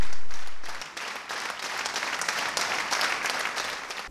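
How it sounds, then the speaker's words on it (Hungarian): An audience at a New Year's gala concert applauds after an encore, a dense, steady wash of many hands clapping that swells in after a brief fade and keeps going without pause. "A műsor végén a közönség hosszú percekig tartó tapsa jutalmazta az előadókat"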